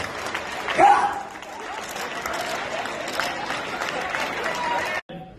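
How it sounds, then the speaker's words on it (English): Crowd at the Apollo Theater in Harlem during a hip-hop memorial, applauding in a steady, moderately distant wash with voices and cheers mixed in before cutting off abruptly. "Give him a round of applause"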